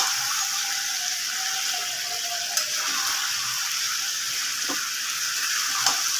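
Chicken frying in browned ghee, a steady bright sizzle close by with occasional soft stirring clicks, no voices.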